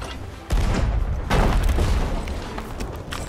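Ship cannon fire in the Sea of Thieves video game: heavy booming blasts land at about half a second and again near 1.3 seconds, followed by a sustained rumbling roar.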